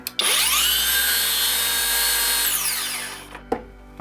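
A REVOLT cordless circular saw spins up with a high whine through its soft start, runs steadily for a few seconds, then winds down, followed by a couple of faint clunks.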